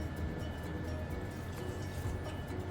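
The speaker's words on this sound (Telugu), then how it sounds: "ఇప్పుడు కొంచెం వాటర్ వేస్తున్నాను" Water pours and splashes steadily into a pot of kale pulusu, a tangy Telugu stew, a continuous close trickling sound with soft sizzling underneath.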